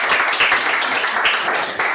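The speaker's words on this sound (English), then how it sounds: "Can you clap for yourselves?" Training participants clapping for themselves, a short burst of dense applause from a group in a room, loud and close.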